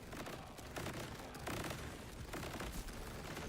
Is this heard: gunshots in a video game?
yes